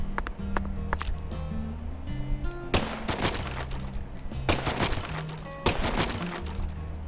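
Gunfire in the video game Deadly Premonition 2: several sharp, loud shots crack out at irregular intervals over steady background game music tones.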